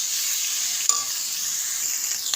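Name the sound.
soybean chunks frying in a pan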